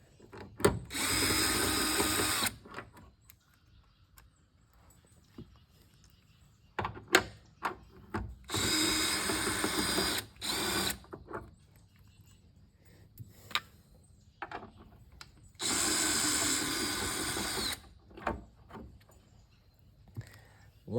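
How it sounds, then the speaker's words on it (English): A power driver fitted with a 10mm socket removes screws from the rear of a 2016 Nissan Rogue, running in three loud, steady whirring bursts of about two seconds each, separated by quiet gaps with small clicks and handling noises. "we're going to take a 10mm socket to remove those, maybe 4 of them"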